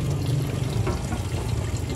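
Water runs steadily into a large gallon container, a continuous close rushing and pouring wash with no pauses for the whole stretch.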